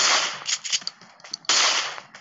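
Rapid bursts of assault rifle gunfire from PUBG Mobile, loud and close, firing in two sustained volleys with a short gap of scattered shots between them.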